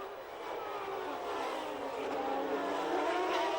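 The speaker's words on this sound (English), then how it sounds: "Alesi again overtook Prost into the second chicane" Whining engines of 1990 Formula 1 cars racing through a chicane, a steady high-pitched buzz heard from a distance that swells slightly as the cars rise in pitch.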